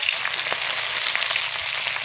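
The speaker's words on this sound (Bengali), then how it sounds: "এবার মাছগুলোকে আমি লাল লাল করে ভেজে নেব।" Fish pieces fry in hot oil for an aam sol dish, producing a continuous close sizzle with small pops and crackles throughout.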